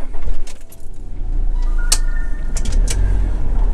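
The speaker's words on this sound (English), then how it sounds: "I'm going to have a little drive around with the van" A camper van driving slowly around a caravan and motorhome club site, with a low engine rumble close by, light rattles inside the cab and a few sharp knocks and clicks.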